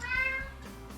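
A pet cat gives a single clear, close meow that rises then tails off within a second, alone without talk.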